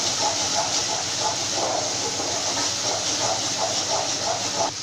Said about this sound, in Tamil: நல்லா ஆயிலில் இந்த மாதிரி இஞ்சி பூண்டு விழுதை வதக்கிக்கலாம்.